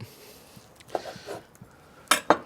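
A knife working through cooked, cooled corned beef on a board, soft scraping followed by two sharp metallic clinks near the end, close and fairly quiet.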